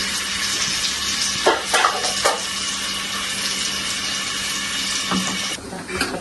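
Water splashes and trickles steadily into a meatball mixture, close and continuous, with a few louder splashy bursts and faint background noise.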